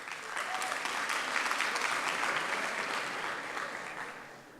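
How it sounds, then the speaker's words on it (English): Audience applause at a Model United Nations ceremony as schools are called, a continuous dense patter of many hands clapping in a large hall, rising slightly then tapering off near the end. "If you please could hold all the applause until the end."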